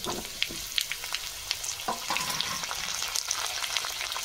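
Cut potatoes sizzling in hot oil with whole mustard seeds, a steady crackling fry with scattered sharp pops and occasional clinks of a utensil, no voices.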